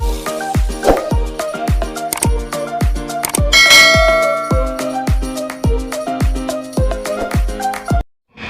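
Repeated metallic bell-like dings strike at a steady rhythm, ringing out with clanging overtones and a denser burst midway, loud and close, likely a doorbell pressed again and again at a window outside a comedy show rehearsal.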